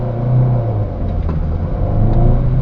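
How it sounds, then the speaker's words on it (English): A 2008 Nissan Qashqai 1.6 pulls away from traffic lights with a loud, low engine drone rising in strain from inside the cabin, the revs building but the car labouring, with no voices. "Now I'm going to pull away on the traffic lights."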